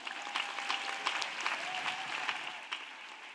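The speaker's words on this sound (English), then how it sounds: "Let us clap." A church congregation claps together during a sermon, a sustained wash of applause with a few sharper individual claps standing out, fairly distant and even throughout.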